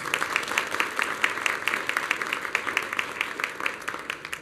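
Congregation applauding during a Catholic Mass, a steady wash of many hands clapping in a reverberant church, moderately loud and continuous with no talk over it.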